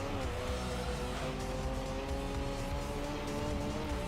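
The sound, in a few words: race car engine sounds in the video game Gran Turismo 3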